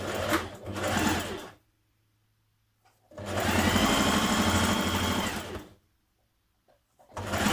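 A sewing machine back tacks the start of a 1.5 cm shoulder seam on a playsuit sewn from a duvet cover, running in two loud close bursts with a short pause between them and no talk.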